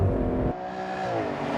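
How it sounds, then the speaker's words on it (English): A 2014 Aston Martin Vanquish V12 accelerates hard. The loud engine roar drops off abruptly about a third of the way in and settles into a smoother, rising whine from inside the car. "probably the nicest V12 engine note there is"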